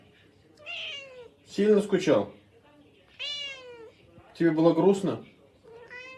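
A domestic cat meows several times in drawn-out, rising and falling calls, close and clear, alternating with a person talking to it in Russian.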